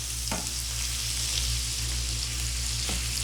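Chopped Chinese garlic sautéing in a pan, a steady close sizzle and crackle throughout with a couple of brief stirring scrapes, no voices.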